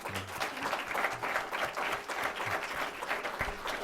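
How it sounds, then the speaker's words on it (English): An audience applauds at the close of a panel on special operations and American warfare, many hands clapping steadily and closely together for several seconds. "If we could give a round of applause."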